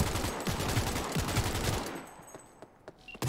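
Rapid automatic gunfire in the video game Cyberpunk 2077, a dense, loud stream of shots that breaks off partway through, leaving a few scattered clicks and thuds.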